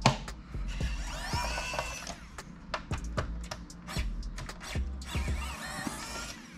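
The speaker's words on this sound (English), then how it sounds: "We're gonna remove these two Torx T8 screws." Torx T8 screws being removed from a PS4 CUH-1100 series console, close small clicks and ratcheting taps of a screwdriver with light scraping and handling knocks in an irregular rhythm, no talking.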